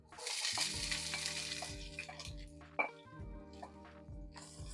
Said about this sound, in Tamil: இதில் இப்போ 3 பெரிய வெங்காயம் வெட்டி வச்சிருக்கிறேன். அதையும் இதோட சேர்க்கிறேன்.